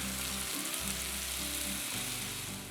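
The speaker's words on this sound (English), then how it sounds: "Now I'm going to add about 1/4 cup of milk." A roux of flour and fat sizzles and fries loudly and steadily in a pan on the stove as milk is added, a continuous close crackling hiss with no talking.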